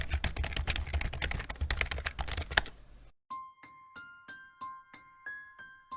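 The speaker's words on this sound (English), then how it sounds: "So you think I should just type it in?" Computer keyboard typing rattles quickly and steadily for about three seconds, then stops, after which a series of soft electronic chime tones plays in a stepped pattern.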